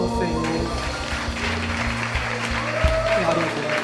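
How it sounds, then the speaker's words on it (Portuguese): Church congregation applause during worship, sustained clapping mixed with lingering music tones and some voices underneath, fairly loud and close. "Um forte aplauso ao Senhor."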